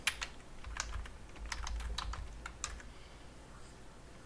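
Rapid typing on a computer keyboard, a quick run of close, light key clicks in irregular bursts that thin out and stop, ending with one sharp keystroke.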